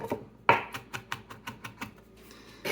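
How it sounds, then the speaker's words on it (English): A knife taps rapidly on a cutting board, chopping garlic for aglio olio: a string of crisp, evenly spaced chops up close with a sharper hit near the start. "A little chopping."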